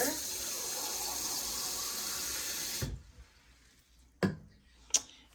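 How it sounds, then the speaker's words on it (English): Tap water pours steadily into a container for a Disney Princess colour-reveal toy, then stops abruptly, followed by two sharp clicks and handling sounds. "So I'm going to fill this up with water."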